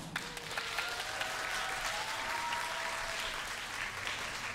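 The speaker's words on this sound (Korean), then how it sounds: "큰 박수 부탁드리겠습니다" Audience applause at a K-pop debut showcase for TWS, a fairly faint, distant and steady wash of clapping with a thin tonal whine running under it.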